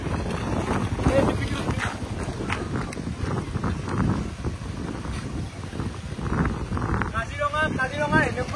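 Strong wind at Kaziranga buffets the microphone with a continuous, loud rumbling roar that gusts and surges throughout, while a person talks underneath.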